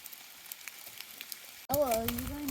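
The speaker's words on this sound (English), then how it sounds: "It's just ice popping on the trees." Ice cracks and pops off branches during an ice storm, a faint, scattered crackle of tiny ticks, before a person's voice abruptly takes over.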